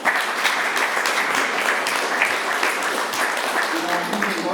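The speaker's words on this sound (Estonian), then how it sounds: "aplaus." Audience applause following a lecture on ancient history, a steady, dense wash of clapping filling the room from start to finish with no speech over it.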